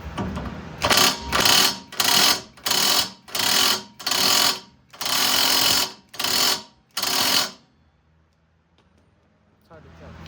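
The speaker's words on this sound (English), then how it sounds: "let's see if this thing's gonna break this big old bolt right here" An impact wrench hammers at a large bolt on the rear axle beam hub of a 2008 Honda Fit, firing in about eight loud, close bursts of harsh rattling, each lasting under a second, separated by short gaps, then falling quiet.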